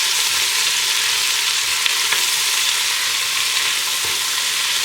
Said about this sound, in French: on en profite qu'elle soit bien chaude pour faire dorer nos oignons